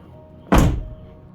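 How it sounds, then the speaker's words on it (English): A car door, on a car being fitted with a home-built widebody kit in a garage, moves with a single sharp solid thunk partway through, then quiet. "Door open."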